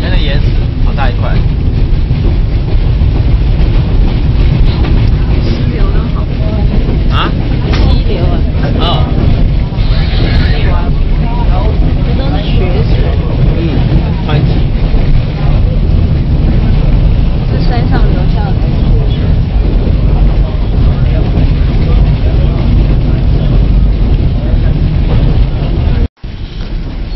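White Pass Scenic Railway train climbing through mountain scenery on the Yukon route, about 3,000 feet of ascent in 20 miles, gives a loud, steady broadband rumble and rattle that continues without a break, cutting off abruptly near the end.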